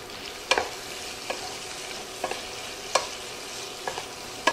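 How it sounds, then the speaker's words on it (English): Sliced onions fry in grease in a skillet with a steady close sizzle, broken by a few sharp stirring clacks of a utensil against the pan. "I'm going to go ahead now and add my sliced onions to the grease"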